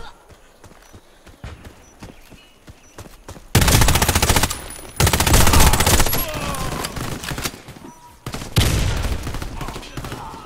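Gunfire in the Warface video game comes in loud, dense bursts of rapid shots with a few short breaks. Quieter game ambience and clattering precede it, and faint talk is heard at times.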